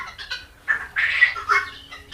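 Harsh, grating guinea fowl calls come in three close bursts, loud and near, with quieter chatter between them.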